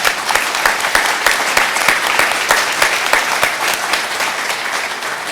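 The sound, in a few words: audience round of applause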